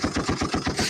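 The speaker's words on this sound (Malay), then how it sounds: "Sebab salah saya bagi Arina 1 tembakan" A gunshot sound effect goes off during a classroom quiz, with a rapid, evenly spaced burst of shots like machine-gun fire that is loud and alone, with no talking.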